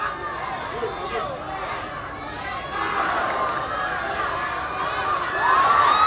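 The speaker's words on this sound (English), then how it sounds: "The crowd is coming alive." A crowd at a boxing fight night cheering and shouting, a dense roar of mixed voices that swells louder toward the end, with excited yells rising above the din.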